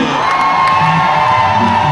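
A church congregation shouts amen and cheers in a dense, loud roar of many voices, with whoops rising over the sustained clamour for the full two seconds.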